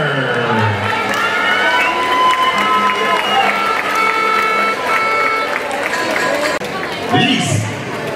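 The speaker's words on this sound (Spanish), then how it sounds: "Vamos a premiar con un fuerte aplauso al equipo de las Black Tiger." A crowd at a flag football awards ceremony cheers and shouts loudly and continuously for a women's team, with high voices and chatter filling the space.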